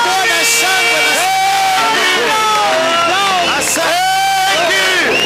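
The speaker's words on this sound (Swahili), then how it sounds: "God a shout and a clap offering of thank you." A congregation at a live New Year church service shouts and cheers in praise, a loud, continuous roar of many voices with whoops rising above it.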